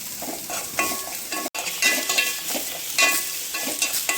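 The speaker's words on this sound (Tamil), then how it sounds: "இப்போ கருவேப்பிலை போட்டுக்கலாம்" Curry leaves going into onions frying in oil, a loud crackling sizzle with steady stirring scrapes, close up, cutting out for an instant before picking up again, with no speech.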